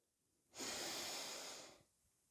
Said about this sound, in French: nous allons prendre une grande inspiration par le nez